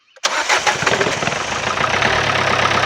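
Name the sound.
diesel car engine starting and knocking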